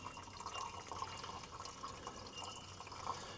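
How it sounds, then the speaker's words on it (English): Water pours and trickles into the radiator of an old, abandoned Ford D Series diesel truck, a faint steady gurgle with small drips and splashes. "I'm going to fill her up with water and"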